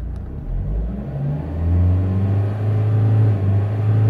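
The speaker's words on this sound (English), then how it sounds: "So when you rev the engine," A Vauxhall Opel Astra engine revs up close, its low rumble climbing in pitch and holding at a steady higher speed with no talk over it.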